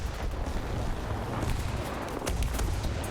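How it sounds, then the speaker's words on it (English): Rapid cannon fire from a G.55 Sottoserie 0 aircraft in War Thunder, a continuous loud roar of dense bursts with no clear gaps, heard alone without talk. "I'm going to fire a cannon for this next pass."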